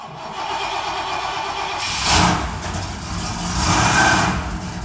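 A car engine cold-cranks in a workshop, a rough whirring churn that catches and swells into a running idle with a couple of louder surges, fairly close and steady.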